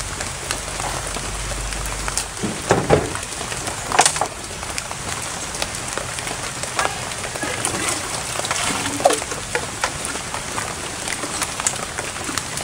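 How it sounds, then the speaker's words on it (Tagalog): Steady rain falls outdoors in a broad, even hiss with scattered louder drops and patters, continuous throughout with no voices. "Umuulan na mga idol."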